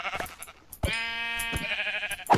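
A sheep in Minecraft bleats several times in quick succession, short, nasal, wavering calls up close, with no talking.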